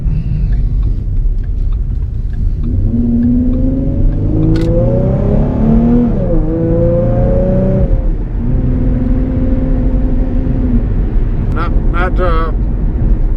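A 3.7L Ford Mustang with a tuned Borla S-type exhaust revs up in gentle, rising surges, the pitch climbing and dropping between shifts, heard from inside with steady road rumble.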